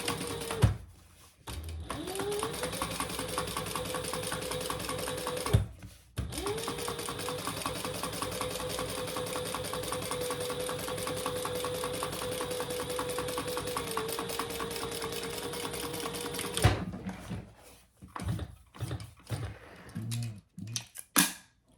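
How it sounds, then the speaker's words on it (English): A sewing machine runs steadily while top stitching a lining piece, a close whirring motor with rapid needle clatter that pauses briefly twice and then stops, followed by light handling clicks. "we're going to top stitch on the lining piece"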